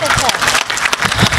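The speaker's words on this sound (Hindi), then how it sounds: "एक बार तालियां उनके लिए होनी चाहिए।" An audience at a Hindi poetry recital on the ghats of Varanasi applauds a poet, a short dense burst of crowd clapping close and loud, with a voice mixed in.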